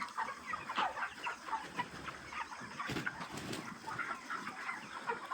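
Broiler chickens cluck and murmur throughout a poultry farm shed holding about seven thousand birds, a dense, continuous flock chatter with occasional louder squawks, no talk.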